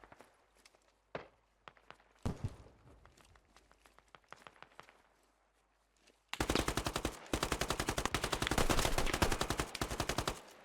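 Gunfire in the video game Squad: scattered single shots and short bursts, then sustained rapid automatic fire that stays loud and dense for several seconds.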